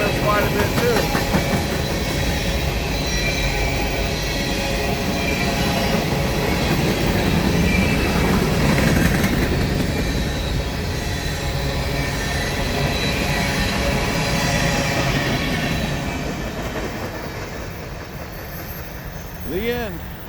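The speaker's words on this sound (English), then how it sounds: "Unit train with 2 leading locomotives." A CSX empty grain unit train led by two locomotives rolls steadily past at close range, wheels rumbling and clacking continuously with occasional high metallic squeals, the roar easing slightly toward the end.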